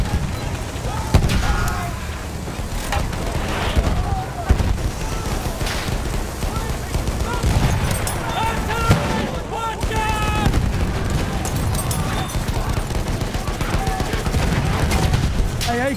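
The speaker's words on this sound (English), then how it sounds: "Artillery! Watch out!" Battlefield 1 desert battle with artillery fire and heavy gunfire, repeated booms and bursts of shots layered over continuous combat noise, with voices shouting in game under the din.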